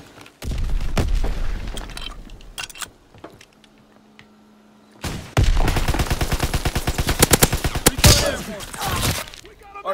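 Division artillery barrage in Call of Duty WW2: loud booming blasts and rapid gunfire bursts, a quiet lull with a low hum mid-clip, then a dense volley of repeated impacts and explosions close by.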